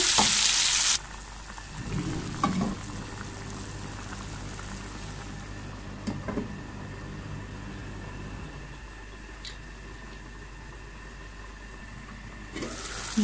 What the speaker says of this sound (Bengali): এখন আমি জাস্ট এটাতে পানি ঢেলে দিব এবং আমার যে বিফ বলগুলো উঠিয়ে রেখেছিলাম ওগুলো এক এক করে ঢেলে দিব